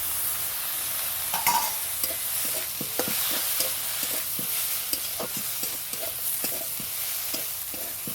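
Vegetables for a sago veg momo filling are sautéed in a pan, a close sizzle punctuated by many regular scraping stirs and clicks of a spoon, continuing steadily with no voices.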